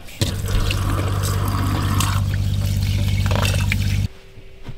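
Water is poured into a dog's bowl inside a camper van, a close, steady gurgling stream under a low hum that stops abruptly after about four seconds.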